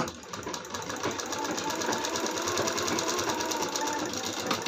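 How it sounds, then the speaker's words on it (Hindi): A sewing machine stitches the shoulder seam of a long-sleeved blouse, running with a steady, fast mechanical whir and rapid needle clatter, close and continuous throughout. "शोल्डर को मिलाकर सिलाई लगा देनी है तो यहाँ पे इस तरीके से मिलाएंगे और हाफ हाफ इंच पकड़ के सिलाई लगा देंगे"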